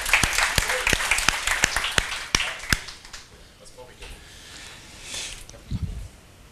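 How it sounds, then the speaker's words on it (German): Small audience giving a brief light round of applause at a business software conference, a few sharp separate claps for about two seconds, then quieter background with talk. "Einen kleinen Applaus."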